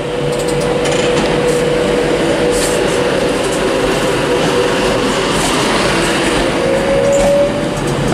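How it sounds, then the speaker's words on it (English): A Virgin train pulls out of Manchester Piccadilly bound for London Euston, giving a loud, steady rumble of wagons and rail noise throughout, with a faint wheel squeal or tonal whine near the end. "Okay, departing now. It's the 1615 Virgin train service to London Euston."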